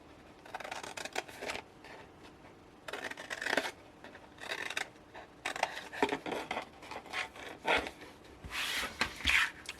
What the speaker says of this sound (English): So I'm cutting straight on the rectangle, wedging the square, and the same on this one.